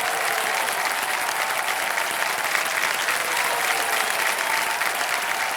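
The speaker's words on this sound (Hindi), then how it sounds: "एक चेक आ गया, ताली बज जाए इनके लिए।" A studio audience on a Hindi television quiz show claps in sustained, dense applause that holds evenly from start to finish, loud and close, with no speech over it.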